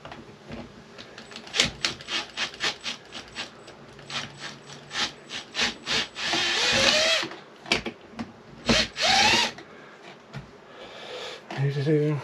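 Screwdriver work on the Phillips screws of an ambulance oxygen fitting, with repeated close metallic clicks and ratcheting scrapes, bursts of grinding friction between them, and a person talking now and then.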